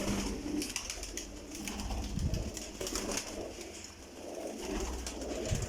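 Domestic pigeons kept as fancy birds coo continuously in low, rolling murmurs, several birds layered together with soft rustling and fluttering close by.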